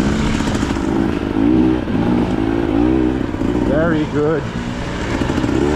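A 2024 KTM 300 TBI two-stroke dirt bike rides on a mountain trail, its engine loud and close as it revs and pulls repeatedly through rising and falling pitch, with a voice briefly heard over it.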